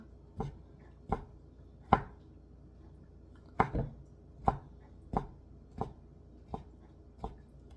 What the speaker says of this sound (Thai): หนูก็จะหั่นเป็นชิ้นประมาณนี้นะคะ